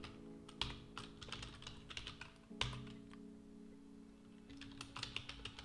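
A computer keyboard clicks under quick, irregular bursts of typing while code is written, faint and close, with brief pauses between runs of keystrokes.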